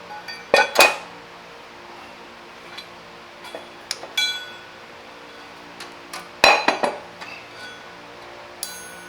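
Metal clanks and clinks of a BMW E30 flywheel and its bolts being handled and fitted, two louder clattering bursts and several lighter taps spread apart, close by with no talking.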